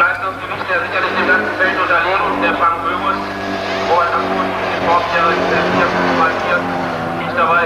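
An old Opel Corsa races on a sand speedway at a 1991 rally in Lübbenau. Its engine revs and roars beneath a commentator who talks throughout.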